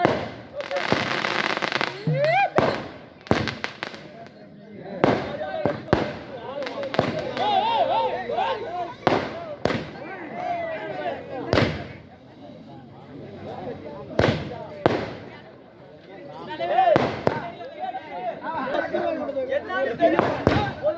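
Firecrackers bursting outdoors in a series of loud, sharp cracks and bangs at irregular intervals, some in quick clusters, with people talking and chattering underneath.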